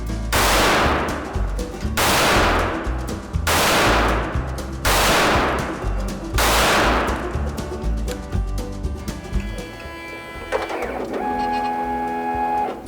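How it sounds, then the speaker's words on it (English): Five loud, sharp shots from an NAA Pug .22 Magnum mini revolver firing 50-grain Federal Game Shok rounds at 10 yards, evenly spaced about a second and a half apart, with quieter mechanical clicks and tones after the last. "I'm just gonna shoot 5 rounds and just see what kind of placement we get at that kind of distance."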